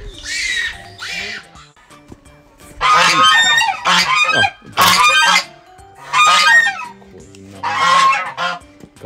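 Loud, harsh goose honks come in repeated bursts at a small mountaintop zoo in Chichibu, Japan, several birds calling close by with brief pauses between outbursts.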